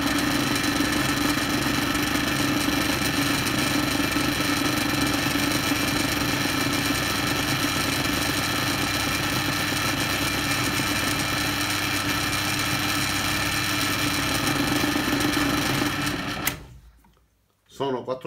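A drill press motor runs with its lid closed, turning the chuck through the central pulley at 500 rpm. It gives a steady, close, even mechanical hum with a constant pitch, then cuts out and winds down near the end.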